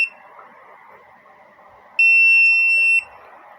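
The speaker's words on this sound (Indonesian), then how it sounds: "tunggu sebentar sampai bunyi buzzer." A keyless Bluetooth motorcycle alarm sounds one loud, steady electronic buzzer tone lasting about a second, standing out clearly over a quiet background murmur before and after it.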